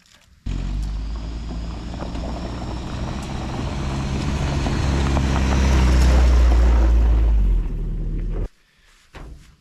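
An old farm truck engine, freshly fitted with a new fuel pump and filter, catches and runs steadily for about eight seconds, a loud low rumble that swells slightly midway before cutting off abruptly.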